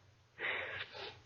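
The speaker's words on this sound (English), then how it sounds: "Sorry to clear my throat like that" A person clears their throat once in a soft, rasping two-part burst, faint and close, with no talking around it.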